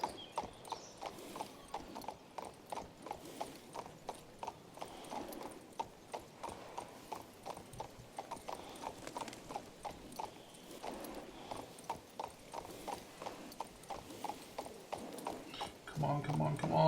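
Horse hooves clip-clop at a slow walking pace through a city in the King's Bounty 2 video game, a steady rhythmic patter of hoofbeats running throughout with a voice talking over it.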